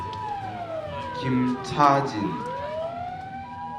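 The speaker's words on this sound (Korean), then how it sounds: "바닷가 쪽에서 앰뷸런스 사이렌 소리가 점점 크게 들려옵니다" An ambulance siren sounds from the seaside near a memorial ceremony in Japan for victims of the Chosei coal mine flooding. A wailing tone swells and shifts pitch as it passes, with a voice speaking briefly over it.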